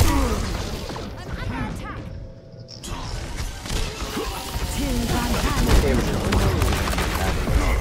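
Gunfire in the team shooter game Overwatch, with steady bursts of shots and impacts running throughout under ongoing talk and game effects.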